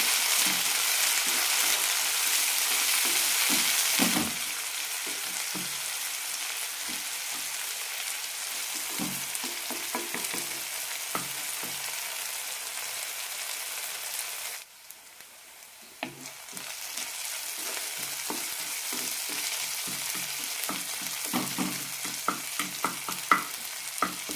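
Onion and tomato fry in a pan for a peanut curry, with a steady close sizzle throughout and occasional stirring scrapes and clicks, no talking.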